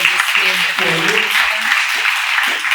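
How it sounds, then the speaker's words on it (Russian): Audience applause at the close of a business conference panel session, a steady dense clapping wash lasting a few seconds with faint voices mixed in. "Аплодисменты."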